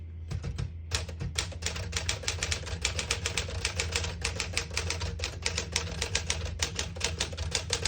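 Rapid, crisp keystrokes on a 1960 Smith-Corona Sterling portable typewriter strike in a fast, steady run, each clack sharp and close, with no talking.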